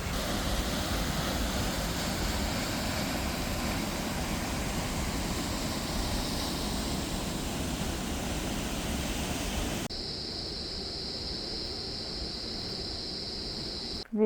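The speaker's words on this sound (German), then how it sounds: "Der letzte Wasserfall." A steady, powerful roar of a Costa Rican waterfall fills most of the clip, then cuts to a quieter, hissier rush with a high whine near the end.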